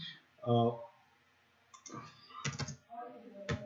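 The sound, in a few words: typing on a computer keyboard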